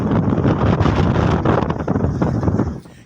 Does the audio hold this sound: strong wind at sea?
yes